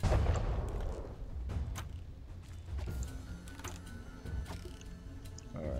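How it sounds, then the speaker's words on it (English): Muffled bomb explosions in a video game, with booming low rumbles and scattered sharp cracks recurring over a continuous background roar. "Just stay away from the bombs."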